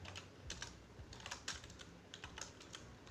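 Code being typed on a computer keyboard, with quick, irregular bursts of close, crisp key clicks and brief pauses between them.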